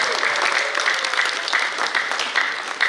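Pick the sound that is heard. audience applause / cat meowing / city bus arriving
audience applause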